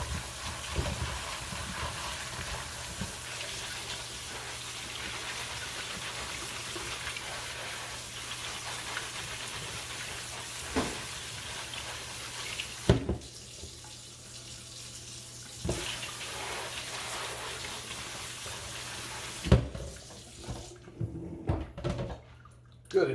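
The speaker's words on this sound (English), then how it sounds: "And just use my sprayer, sort of clean them off." A kitchen sink sprayer rinses pumpkin seeds, a steady close hiss of running water that cuts off briefly twice, with clatter and a few bumps near the end.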